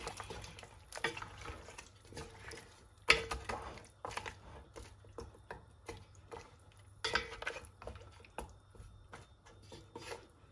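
Meat stock for Nigerian oha soup being stirred in a pot, with irregular scraping and knocking strokes of a spoon against the pot and soft liquid sloshing, a sharper clank near the middle, fairly quiet and close.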